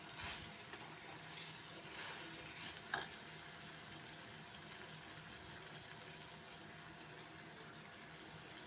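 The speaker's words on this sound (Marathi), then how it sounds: "छान तळत आहेत टमाटे, ते लसूण" Tomatoes with garlic and ginger paste frying in a pan, a constant bright sizzle with occasional stirring scrapes and one sharper clink partway through.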